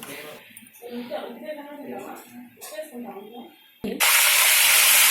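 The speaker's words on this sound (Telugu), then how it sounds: "ఇలా పోపు పెట్టేసేయాలి కమ్మగా ఇంగు కూడా వేసి పోపు పెట్టేసేసుకుని కలిపేసుకోవాలండి" Tempering with asafoetida for a stored kondapindi leaf pickle hits hot oil and breaks into a loud, steady sizzling hiss for the last second, following a stretch of talking in Telugu.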